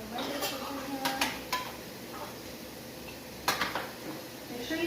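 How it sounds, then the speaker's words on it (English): Dishes being washed in a kitchen sink, with scattered sharp clinks of plates and cutlery against each other over running-water hiss, fairly close. "I can start my dishes in here"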